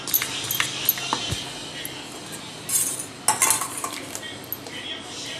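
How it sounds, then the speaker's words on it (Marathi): Food colour being stirred into soaked sago mixture in a bowl for coloured papad, with spoon clinks and scrapes against the vessel, some sharp louder knocks midway, quiet between strokes. "साबुदाण्याची खिशी अशा पद्धतीने कालवायचा आहे कलर"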